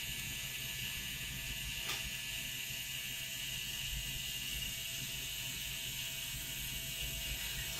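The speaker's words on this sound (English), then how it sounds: "We're running the machine just a little bit higher right now" A permanent makeup tattoo machine runs during a lip tattoo on a live model, giving a steady, continuous high-pitched whir that holds at an even level throughout with no talk.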